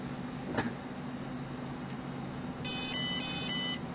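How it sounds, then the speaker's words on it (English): Electronic speed controller on a 3DX-450 RC helicopter sounds its programming-mode tones: a brief blip early, then a loud, steady run of high electronic beeps lasting about a second near the end, over a faint hum. "The minute we hear the 4-tone programming mode, we got to go to low stick before the next beeps"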